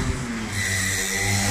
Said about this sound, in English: Oh, yeah, that's the motorbike.